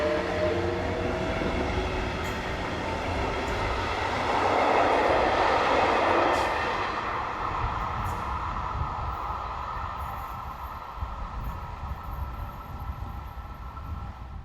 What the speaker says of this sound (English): ES64U2028 departs the station on the 1623 from Halle to Eisenach